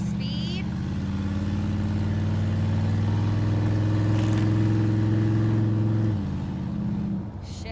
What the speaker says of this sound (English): Let's give it some speed.